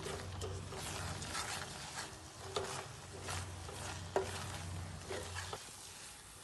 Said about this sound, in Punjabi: ਹੁਣ ਆਪਾਂ ਇਹਨੂੰ ਵਿੱਚ ਮਿਲਾ ਦਿਆਂਗੇ